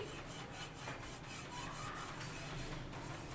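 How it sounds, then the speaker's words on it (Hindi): An oil brush is rubbed over a frying pan in quick, rhythmic strokes, a faint, close scratchy swishing that repeats steadily with no talking. "पैन के ऊपर ऑयल का ब्रश लगा लूँगी"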